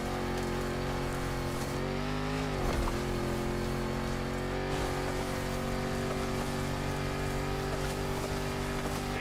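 A Land Rover Defender's 400-horsepower engine under a 70-year-old bonnet drones steadily at cruising revs in The Crew Motorfest, loud and continuous, with a brief dip and pitch shift near the start before holding level.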